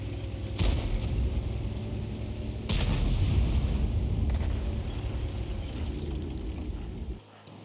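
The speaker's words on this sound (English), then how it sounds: "our fellow Arty is actually firing in this general direction" Artillery fire in the World of Tanks video game: two sharp distant booms stand out over a steady rumbling battlefield din, which cuts off near the end.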